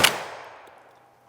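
A shotgun fires Aguila Target Loads 8-shot outdoors: one loud, sharp blast that rings off, then a second shot begins just as the clip ends.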